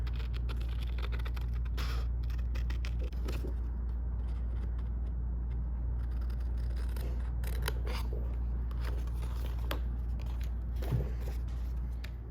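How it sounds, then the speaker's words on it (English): Soft, slow snipping and rubbing of small scissors working through stiff board, quiet and close over a steady low hum. "Just slowly working my fine tip scissors around this circle up here"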